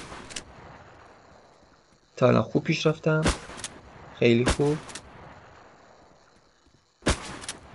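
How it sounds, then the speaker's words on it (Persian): Gunfire in the shooter video game Metashooter, sharp loud shots, one early, then a rapid cluster of several and another burst, with a final shot near the end, while someone talks quietly between them. "اولین شلیک رو که بزنم بازی شروع میشه"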